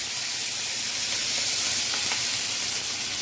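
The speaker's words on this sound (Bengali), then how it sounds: "পেঁয়াজটাকে ভাজছি" Onions frying in a pan in a home kitchen, a steady, loud, continuous hiss and sizzle close up with no voices over it.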